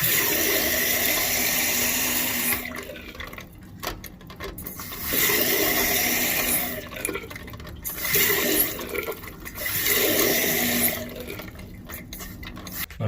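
Water rushes through a toilet's fill valve into the tank, a loud steady hiss and gurgle that surges and dips in pulses throughout, with no voices.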